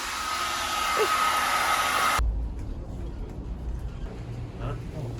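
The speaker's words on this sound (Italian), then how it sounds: "Stiamo scaldando le lasagne col phon." A hair dryer warming lasagna blows with a loud, steady whoosh for about two seconds, then cuts off abruptly, leaving low rumbling background noise.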